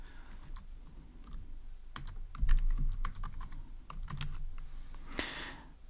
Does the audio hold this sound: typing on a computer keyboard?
yes